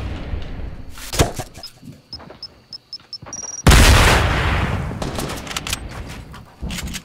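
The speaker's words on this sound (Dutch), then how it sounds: "Ik word geschoten van boven." Gunfire in Fortnite, shots coming from above: scattered sharp cracks, a rapid run of small ticks, then a loud booming burst that slowly decays, with another shot near the end.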